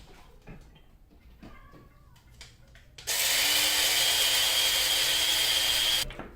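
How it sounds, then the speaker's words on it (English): A coffee grinder grinding cereal for homemade baby food starts abruptly after quiet handling noises, then runs as a loud, steady high whir for about three seconds before cutting off. "I have a coffee grinder."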